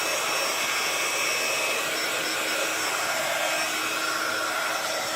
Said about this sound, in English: I'm going to heat my heat tool up and I'm going to heat it from the back